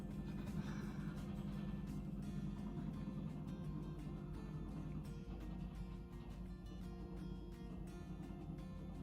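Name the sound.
lorry driving past outside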